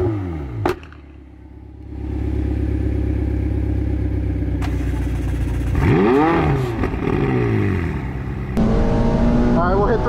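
A McLaren 675 LT sports car on the Nürburgring: engine note rising and falling through gear changes with a closing whoosh and revving climbs, loud and near, with a voice talking over it.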